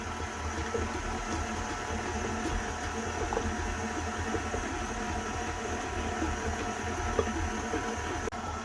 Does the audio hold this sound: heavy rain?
no